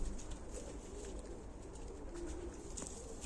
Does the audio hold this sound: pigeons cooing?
yes